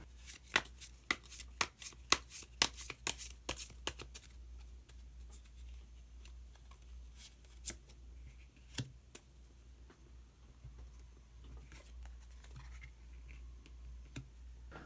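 Tarot cards are shuffled and laid down in a run of close, crisp flicks and taps at the start, followed by a quiet stretch with a few isolated card snaps.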